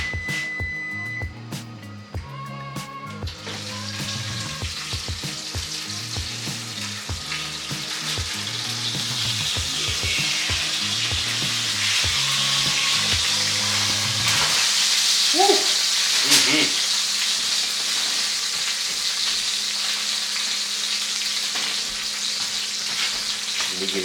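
A steak sizzles hard in a hot pan, a dense crackling fry that holds loud and steady throughout, with earlier clinks and kitchen clatter mixed in at the start.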